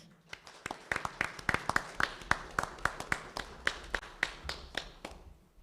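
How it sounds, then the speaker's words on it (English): Audience at a school board meeting applauding in a room, individual claps sounding as sharp, fairly sparse taps that build into steady clapping for several seconds, with no talking over it. "please keep the applause coming"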